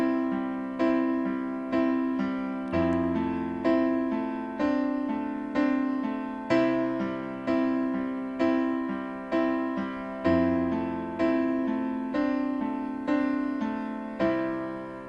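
A piano plays a broken-up chord progression, each chord rolled out as evenly spaced single notes in a steady, moderate rhythm, clear and close with no voices.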